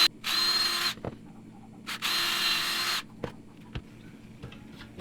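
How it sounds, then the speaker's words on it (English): Two bursts of a high, buzzing power drill boring a hole in aluminum, each lasting under a second, close by, followed by scattered small clicks and taps. "I'm going to drill and get a second larger hole going through the pilot."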